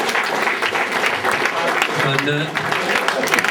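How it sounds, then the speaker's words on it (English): An audience bursts into steady, dense clapping at a stage hypnotist show in a football club venue, sustained for a few seconds with a voice talking over it. "Give him a big round of applause."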